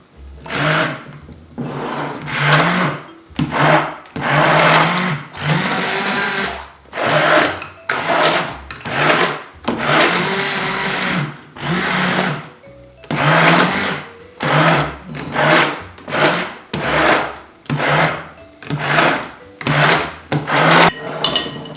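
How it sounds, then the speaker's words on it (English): A hand blender pureeing blanched tomatoes for passata, loud close whirring in repeated bursts of one to two seconds with short pauses between, running steadily throughout. "I'm just going to use the hand blender."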